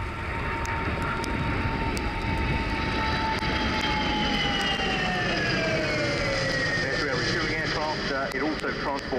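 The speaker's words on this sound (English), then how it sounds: "The Voyager is also vital to NATO operations, very often refueling coalition aircraft" An RAF Voyager tanker aircraft makes a flying display pass at an air show, its jet engine roar steady and loud with a slowly falling whine, under a commentator's voice.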